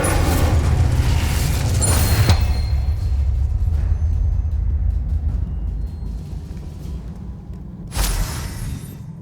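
Incendio fire spells are cast in the video game Hogwarts Legacy: loud, whooshing fiery bursts go off early and again near the end, with a low rumbling roar between them.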